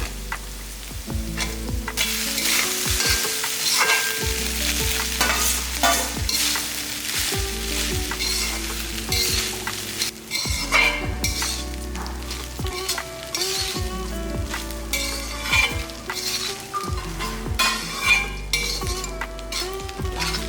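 Cooked rice is stirred and tossed through coconut oil in a pan, with a steady sizzle under repeated scraping strokes and occasional metallic clinks of a spoon against the pan, close and fairly loud.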